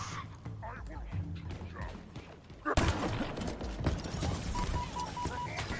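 Gunfire from a weapon in Halo Infinite with few shots per load, a sharp burst of shots breaking in partway through over a bed of game noise, with talk running underneath.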